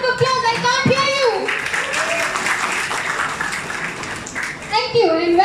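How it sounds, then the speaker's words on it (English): Applause and clapping from a crowd at a shopping mall lucky draw, fairly faint and spread through the middle of the clip, with a presenter's voice speaking before and after it. "Can I have a huge round of applause for Safari Hypermarket?"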